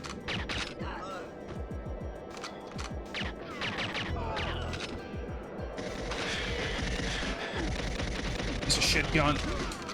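Gunfire in the GoldenEye 007 game on Xbox Live Arcade, rapid clattering shots and impacts throughout with a denser burst late, mixed with a person talking.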